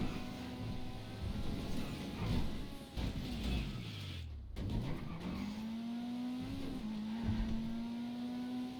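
Pegassi 811 supercar in GTA revving and accelerating, its engine tone sweeping down then climbing steadily upward, with tire squeal and skidding mixed in, loud and continuous throughout.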